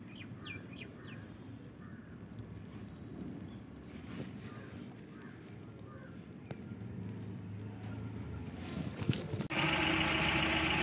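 A Tata Nano engine idles while overheating from a coolant leak, a steady low rumble heard up close outdoors, ending in a sudden louder broadband rush near the close.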